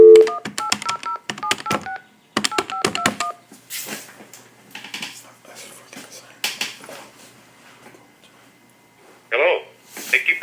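A telephone keypad sends two quick runs of short, distinct dialing tones, then gives way to quieter handling noise and brief clicks.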